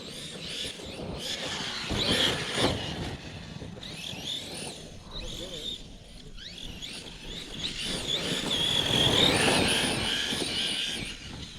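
A radio-controlled car fitted with a Team Corally Kronos 1400KV motor on a 6S pack drives at a track, its electric whine rising and falling continuously across the stretch, fairly loud and close, with no talk over it.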